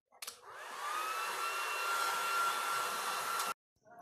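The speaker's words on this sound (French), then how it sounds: "là, j'ai quasiment fini de sécher mes cheveux" A hair dryer blows while drying hair, a steady loud whoosh that switches on after a brief click, runs for about three seconds and cuts off abruptly.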